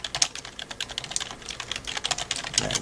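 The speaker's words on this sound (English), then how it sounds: "Let me type that up here again here." Fingers tap steadily on a computer keyboard, a fast, uneven patter of close, crisp clicks running throughout with no voice over it.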